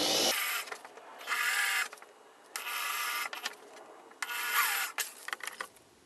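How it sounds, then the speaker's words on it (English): Drill boring pilot holes for self-tapping screws while fitting an APU1 unit: three separate bursts of bright, rasping mechanical whirring, each lasting under a second, with short quiet gaps between them. No talk. "all I'm doing is creating a pilot hole"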